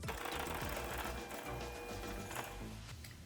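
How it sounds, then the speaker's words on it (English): Butter, sugar and eggs whisked in a bowl, a fast continuous clatter of the whisk against the bowl, close and steady throughout without a break. "Now that we finished whisking in our eggs"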